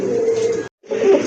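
A pigeon gives two low, close cooing calls separated by a short pause, loud and clear with no talking.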